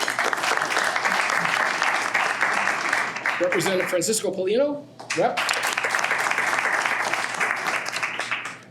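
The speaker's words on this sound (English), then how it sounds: "Give her a round of applause." Audience applause at a state representatives luncheon, a dense wash of clapping running through the stretch while a man announces representatives' names over it, briefly pausing the clapping mid-way before it resumes.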